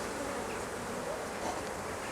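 Steady buzzing of many honeybees swarming close around frames, a continuous dense hum with no voices.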